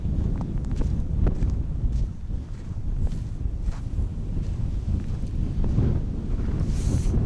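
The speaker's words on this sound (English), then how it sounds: "You must be able to hear that wind because it's quite strong." Strong wind blowing over the frozen Volga river in Yaroslavl, Russia, roaring and buffeting right at the microphone as a constant low rumble with gusts and light rustling throughout.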